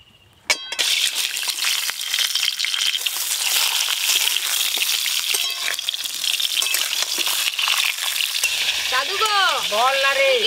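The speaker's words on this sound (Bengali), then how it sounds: "নুন হলুদ ছাড়া একদম হালকা করে পটলগুলো ভেজে নেব" Loud, continuous crackling sizzle of pointed gourds frying lightly in hot mustard oil without salt or turmeric, starting abruptly as they hit the pan, with a few clinks and a tonal squeal near the end.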